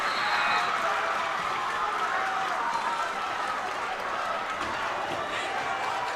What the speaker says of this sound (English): The crowd mounting the pressure even higher.